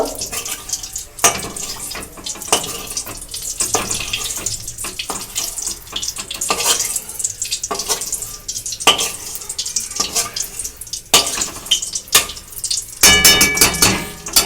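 Oil being spread around a hot pan before pasta is fried in it, giving a steady, fairly loud run of scraping and sizzling with sharp bursts and no talk.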